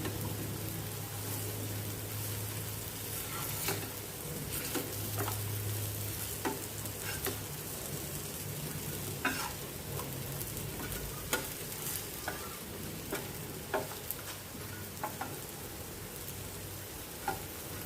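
Dal bora lentil fritters fry in hot oil over a full gas flame, a steady dense sizzle with occasional sharper pops and clicks from stirring throughout.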